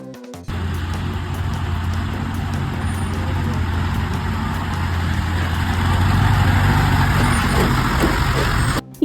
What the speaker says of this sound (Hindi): ये देखो बच्चों, क्रेन।